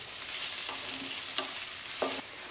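Chopped large onion fries in a pan for an aloo chilly fry, with a steady quiet sizzle broken by a few scraping stirs of a spoon.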